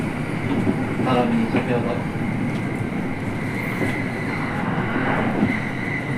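A commuter train on the Tokaido Line runs steadily, with a constant rumble and rhythmic wheel clatter heard from inside the carriage while a conductor makes an announcement over it.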